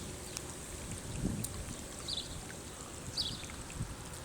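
Rainwater runoff from parking lots flowing down a residential street in Fort Wayne, Indiana after a June rainstorm, a faint steady trickling wash with a few light splashes and no voices.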